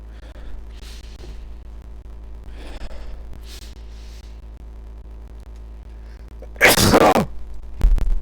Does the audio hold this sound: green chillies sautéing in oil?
no